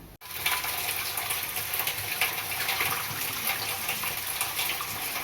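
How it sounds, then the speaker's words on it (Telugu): Rice soaking for onion dosa batter is washed under running water, a loud steady splash and gush close up after a short start, with no talk. "ఇలా కడిగేసుకొని వాటర్లో వేసుకోవాలి"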